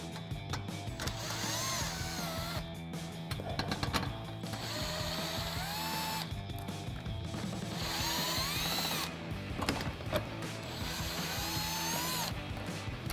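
A power drill whirs as it backs out the 7mm screws holding the rear diffuser on a 2016-2024 Camaro, running in steady bursts with brief pauses and ratcheting tones between screws, close and fairly loud.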